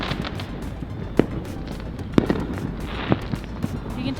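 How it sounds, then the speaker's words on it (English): Fireworks popping outdoors at a distance, a scatter of sharp cracks and bangs at irregular intervals over a low background rumble. "You can tell they're like kind of fireworks though"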